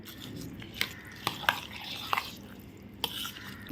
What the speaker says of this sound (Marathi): आता फोडणी आपण ढवळून घेऊया